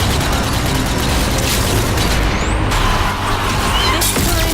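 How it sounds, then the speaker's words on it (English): Grenade blasts in the zombie shooter Zombie Army 4, loud dense booms and crashing layered over constant heavy game noise, with no talking. "Some grenade throwing."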